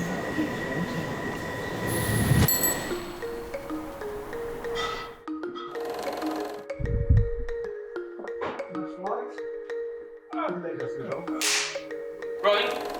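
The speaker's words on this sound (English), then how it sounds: "This is a Piccadilly line service to Heathrow." A London Underground Piccadilly line train at Arsenal station, with rumbling wheels, a burst of screeching brakes and clattering carriages, followed by a pause and quieter platform noise as people talk nearby.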